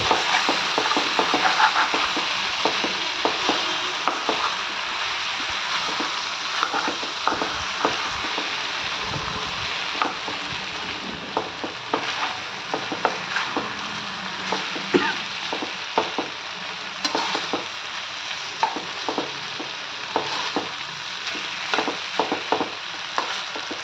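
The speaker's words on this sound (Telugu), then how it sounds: "గుత్తి వంకాయ చేస్తున్నప్పుడు వంకాయలు ఎప్పుడు కూడా ఎక్కడ మగ్గినాయి ఎక్కడ మగ్గలేదు తిప్పుకుంటూ ఉండాలన్నమాట" Stuffed eggplants frying in oil in a pan, a close, constant crackling sizzle broken by scraping clicks as the pieces are turned now and then, no talking.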